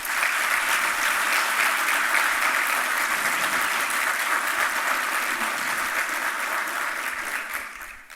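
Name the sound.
audience applause for the minister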